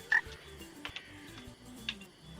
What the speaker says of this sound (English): there's actually something called a giant screaming frog, and it makes a noise like this